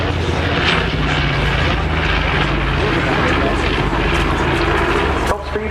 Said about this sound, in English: Powered by two 1700 horsepower Wrights R2600 14-cylinder radial engines, very distinctive sound there